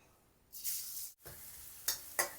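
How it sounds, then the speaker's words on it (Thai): Chopped garlic fries in hot oil over low heat, a bright crackling hiss that swells and fades, with a couple of short spatters near the end. "เจียวกระเทียมด้วยไฟอ่อนๆครับ จนสุกเหลือง"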